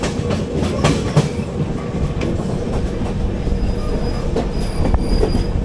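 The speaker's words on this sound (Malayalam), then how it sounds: "നമ്മൾ രമണ്ണാപ്പേട്ട സ്റ്റേഷനിലേക്ക് കയറുകയാണ്." Steady, loud rolling rumble from inside the 12805 Janmabhoomi Express AC Economy coach as it enters Ramannapet station, with wheel clatter and occasional high metallic squeals throughout and no talking.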